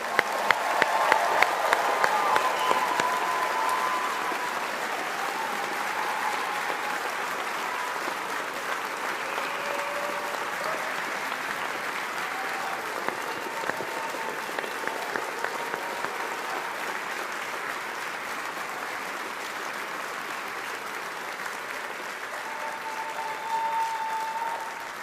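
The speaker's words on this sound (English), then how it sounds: "let's give the class of 2024 a big round of applause" A graduation ceremony crowd applauds the Strathclyde class of 2024, biomedical engineering and design graduates: sustained, moderately distant clapping from a large hall audience, starting with a louder burst and holding steady for the full stretch.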